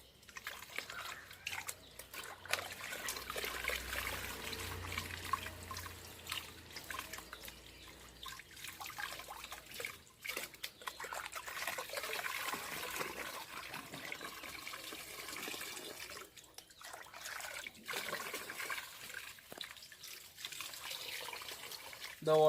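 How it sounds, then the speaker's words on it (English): Water pours and trickles steadily into a ram pump as it is filled, a continuous low splashing wash with small drips and faint background noise throughout. "As you can see, I am filling the water."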